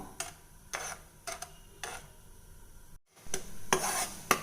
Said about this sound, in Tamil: நான் கைவிடாமல் கிளறிட்டே இருக்கேன்